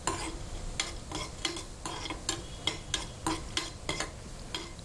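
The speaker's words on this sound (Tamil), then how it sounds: "நெய்யில் நம்ம முந்திரி பருப்பை நான் சிறு சிறு துண்டாக உடைச்சி சேர்த்துருக்கேன்" Broken cashew pieces frying in ghee in a non-nonstick pan, with a spoon repeatedly scraping and stirring in a steady rhythm over a soft continuous sizzle.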